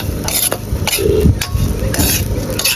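A utensil stirring and scraping food around a dry pan with no oil, making repeated gritty rasping strokes with light metallic clinks, close and fairly loud.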